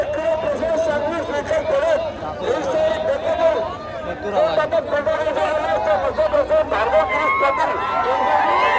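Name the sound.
crowd chatter at bullock cart race ground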